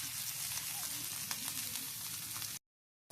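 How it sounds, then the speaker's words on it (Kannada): Fish frying Mangalore style in pure coconut oil gives a steady, dense sizzle with faint crackles throughout, then drops abruptly to silence near the end before a brief return. "ಚೆನ್ನಾಗಿ ನಾವಿದನ್ನು ಪ್ಯೂರ್ ಕೋಕೋನಟ್ ಆಯಿಲಿಂದ ಫ್ರೈ ಮಾಡ್ತೀವಿ."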